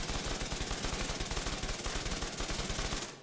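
Hip-fired gunshots at 5 meters in The Division 2 pour out as one continuous, rapid automatic stream of loud, tightly spaced shots for about three seconds before abruptly cutting off.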